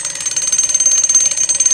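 A novelty alarm clock rings with a steady, rapid high-pitched electronic trill, loud and close, lasting throughout without any talk.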